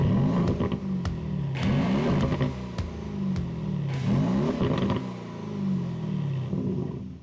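An Aston Martin fitted with an AMG V8 engine revs repeatedly, each throttle blip rising and falling in pitch in a rhythmic series of deep, loud sweeps with no talk.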